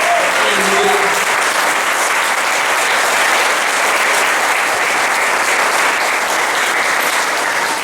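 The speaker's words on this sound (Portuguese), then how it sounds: "Dê-lhe um aplauso." A church congregation applauds loudly and continuously in dense, sustained clapping during a Portuguese-language worship service. A voice is briefly heard at the start.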